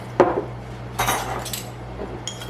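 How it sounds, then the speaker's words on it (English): Pickling spice seeds are mixed in a container, giving a few short dry rattles and clinks at close range with quiet pauses between them. "Now, you just mix that all up"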